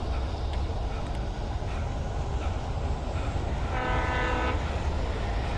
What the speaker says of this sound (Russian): О, поезд.